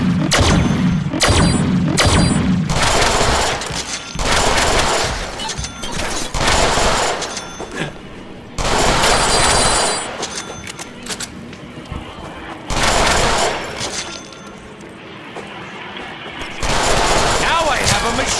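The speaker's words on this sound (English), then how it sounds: "Now I have a machine gun." Machine gun fire in the Deadpool video game, loud rapid bursts separated by short pauses, with crashes and booms mixed in and game voices talking between volleys.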